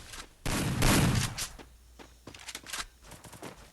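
A rapid fusillade of gunfire comes from behind in a video game. A loud burst is followed by a quick run of sharper, scattered shots.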